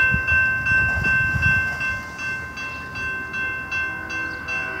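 A Rocky Mountaineer 8012 passenger train sounds its horn in one long, steady, loud multi-tone blast that holds for the whole stretch, over the rumble of the moving train.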